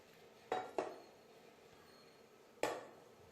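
Metal cooking vessel handled during rinsing in a home kitchen, three sharp clanks, two close together then one more after a pause, over faint background quiet.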